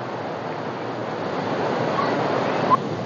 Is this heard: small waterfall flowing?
yes